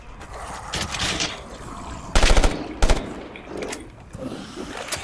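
Bursts of video game gunfire in Moving Hazard, with two loud clusters of rapid shots standing out midway over a busy, noisy background of game sound.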